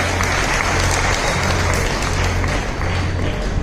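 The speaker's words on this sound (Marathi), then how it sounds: "जोरदार टाळ्या." An audience at a festival celebration gives loud, sustained applause, dense clapping filling the whole stretch at close range with a faint murmur of crowd beneath.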